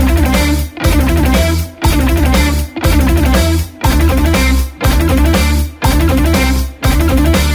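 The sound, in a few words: fast guitar picking speed bursts, one string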